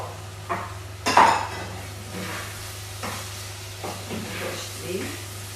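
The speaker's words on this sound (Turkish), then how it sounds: "Yıkayıp süzdüğümüz bulgurumuz ve yıkayıp süzdüğümüz pirincimiz de içine gidiyor." Washed, drained bulgur and rice tipped into a pot for ezogelin pilaf make a short clattering pour near the start, followed by faint scrapes and taps over a steady low hum.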